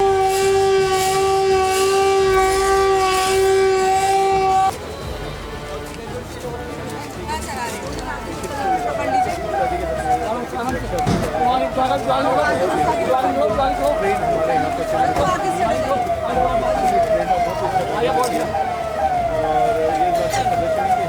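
An air raid siren sounds at the end of a blackout mock drill in Dehradun: a steady multi-tone blast first, then a long, loud rising and falling wail that carries on alone.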